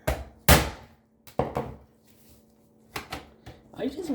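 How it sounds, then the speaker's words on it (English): Hammer striking a Philips 15 inch monitor, a handful of sharp, irregular knocks and clatters spread out with quiet gaps, close by, with some faint talk. "time to get the hammer"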